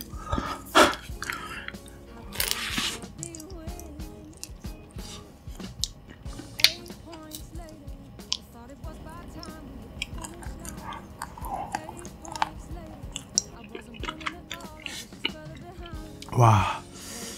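A cookies-and-cream flavored snack is chewed and crunched up close in a convenience-store mukbang, with soft crisp bites and mouth sounds scattered through, broken up by quiet talking.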